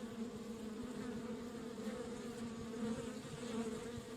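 A swarm of bees drones in Kelvin and the Infamous Machine, a constant layered hum of wingbeats that holds steady and close throughout with no voices.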